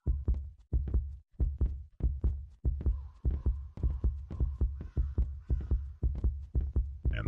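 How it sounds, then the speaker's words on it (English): Heartbeat sound in a horror video game: a steady, close, loud lub-dub thumping pulse of about twenty beats over seven seconds, with a faint low hum behind it and no talking. "And the heartbeat's starting to go up"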